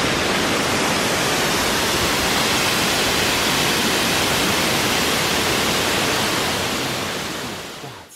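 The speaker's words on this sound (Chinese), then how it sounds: "在桥上可同时观赏到雷音瀑布和龙宫瀑布" The Leiyin and Longgong waterfalls at Taixing pour in a dense, unbroken roar of falling water, loud and steady before fading out at the end.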